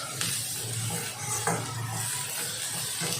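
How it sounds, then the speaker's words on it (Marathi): Chopped onion sautéing in hot oil in a pan for a Malvani-style onion and coconut masala, a steady close sizzle with occasional stirring scrapes. "एकदा पूर्ण सुट्ट्या झाला आपला कांदा तेलात चांगला आपण परतून घ्यायचं आहे"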